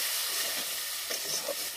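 Potatoes with salt and turmeric fry in a pan with a steady, hissing sizzle, close and even, with a couple of soft stirring scrapes near the end.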